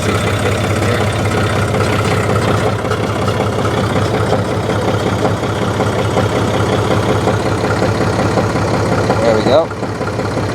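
A machine's engine idles steadily and close by, a constant low rumble running the whole way through without a clear start-up moment, then dipping briefly near the end.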